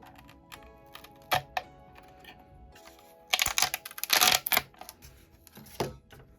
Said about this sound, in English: we will peel off this rubber control.